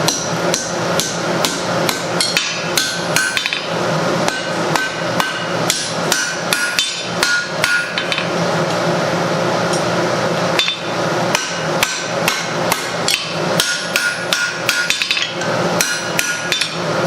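A hammer strikes hot steel stock over and over while bending a 90-degree angle for blacksmith knee tongs, sharp ringing blows in a steady rhythm with short pauses, loud and close with no talk.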